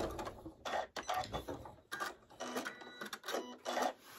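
A sewing machine stitches down scrap quilt seams in quick broadband mechanical bursts of varying length separated by short pauses, fairly close and clear with no talking.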